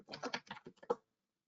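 A quick run of about eight keystrokes on a computer keyboard, close and quiet, followed by silence.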